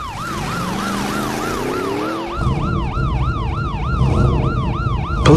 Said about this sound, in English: Police tow truck.